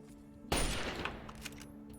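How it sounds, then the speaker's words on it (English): Enemy gunfire in Fallout 3: one loud, close burst around the half-second mark, then a dense crackle of scattered shots and ringing tail that slowly dies away. "Still a guy shooting, but he's missed me every time"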